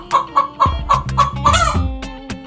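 Hens cluck in a quick run of about six sharp, evenly spaced calls, then give a louder drawn-out squawk and a few softer clucks, close and clear, with no voices.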